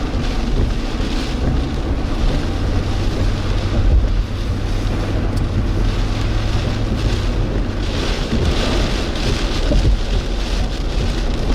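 Heavy rain from a thunderstorm during Tropical Storm Debby in South Carolina drums steadily on a vehicle, a dense, loud hiss and patter with wind noise, constant throughout.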